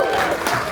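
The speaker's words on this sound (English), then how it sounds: "It was good to get the applause before the tune." Brief burst of audience clapping and cheering at a Lúnasa Irish traditional music concert at the Music Box Supper Club in Cleveland, a dense wash of hands with a voice or two mixed in.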